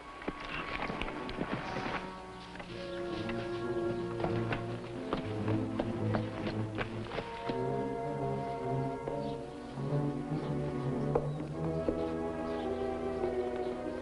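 Horse hooves clip-clop in an irregular walking rhythm, moderately near, with bird chirps and faint background sounds around them, in a 1955 television drama.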